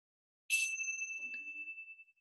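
A gong struck once at the close of a guided relaxation, ringing out with a bright, shimmering tone that sustains and slowly fades over two seconds, with a faint low murmur partway through.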